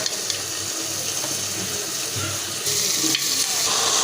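Onions and bananas sizzle together in a frying pan, a steady crackling fry that grows a little louder near the end, with no talking.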